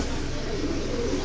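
A pair of silver pigeons coo in low, steady tones, close by and continuous, with no talk over them.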